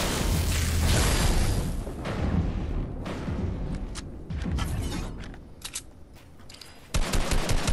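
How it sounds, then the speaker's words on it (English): Bursts of machine gun fire in a video game, loud rapid rattling at first, then thinning into scattered shots and mechanical clanks. "Keep shooting, keep shooting."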